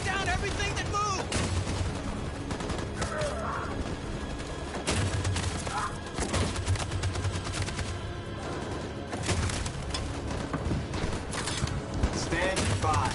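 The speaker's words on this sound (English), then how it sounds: "That machine gun is taking down everything that moves!" Sustained machine gun bursts and gunfire in Detroit: Become Human, dense and loud throughout with heavy low booms, shouted voices mixed over the barrage.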